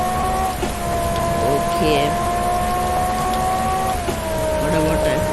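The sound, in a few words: rain in a racing video game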